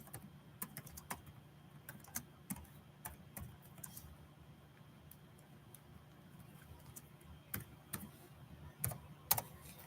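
Quiet, irregular clicking of keys being pressed on a computer keyboard, close and faint with small bursts of taps.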